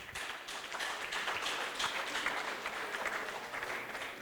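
A crowd at a rally marking the International Day for Victims of Enforced Disappearances applauds speaker Wilfred Olal, a close, busy burst of many hands clapping that stays fairly steady throughout.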